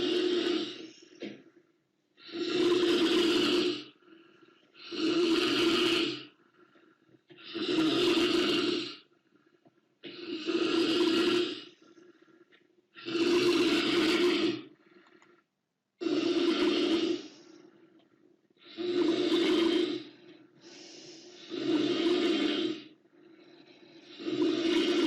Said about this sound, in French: ronflement.